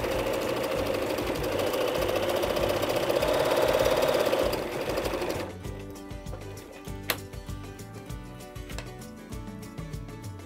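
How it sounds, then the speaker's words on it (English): A sewing machine zigzag stitches back and forth across a fabric strap, running in a fast, steady rhythmic whir. The pace drops partway through into slower, softer ticking and clicking. "you will zigzag stitch back and forth a few times"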